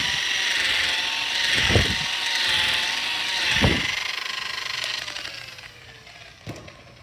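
A power buffer runs on an anodized aluminum boom from a Catalina 27 sailboat, giving a continuous whirring drone with a few low thumps as the pad presses and shifts.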